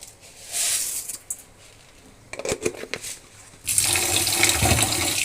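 Red lentils, mung lentils and rice are washed in water, with splashing, swishing and running tap water in bursts that grow louder and steadier toward the end, close by.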